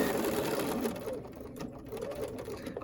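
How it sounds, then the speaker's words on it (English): A sewing machine stitches across a foundation paper-pieced quilt block with a steady, continuous mechanical whir at close range, with no talk over it. "We're back at the sewing machine to sew between section 3 and all of the previously stitched sections."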